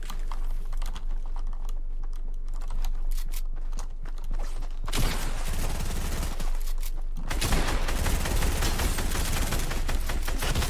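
Pump shotgun fire in Fortnite, a couple of harsh blasts in the second half layered over a steady patter of keyboard typing, with no talking.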